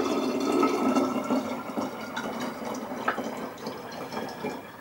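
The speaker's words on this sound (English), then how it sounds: "I'm going to pour our solution in there as well" Yeast solution for homemade apple cider poured into a bottle already holding some apple juice, a steady liquid trickle and glug running throughout at close range, alone without voices.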